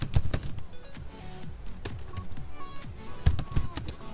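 Keys clacking on a computer keyboard during an SQL tutorial, with quick bursts of close, crisp taps, a few louder keystrokes, and a pause in the middle before typing resumes.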